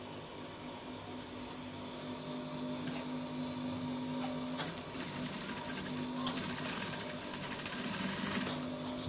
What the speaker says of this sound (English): we'll sew this point straight.